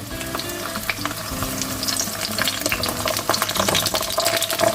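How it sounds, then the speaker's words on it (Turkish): Loud, busy sizzling and spattering of peppers frying in hot oil, crackles growing denser toward the end, with no voices. "Biberlerimi bırakıyorum. Onlar bir kızarsın."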